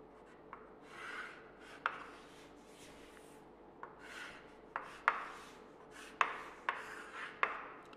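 Pen or marker writing on a board during a chemistry lesson, heard as a series of short, sharp scratchy strokes and taps with quiet pauses between them, fairly faint and close, with no talk over it.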